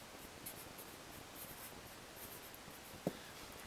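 A pen quickly writes base-12 digits, making faint, soft scratching strokes in short bursts, with one sharper tap near the end.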